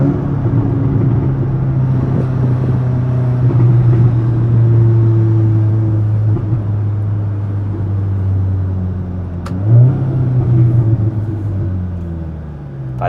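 A 2017 Audi S3 accelerates hard, its engine rumbling loud and steady with rising and falling harmonic bands, one shift-like surge near the end, and no one speaking.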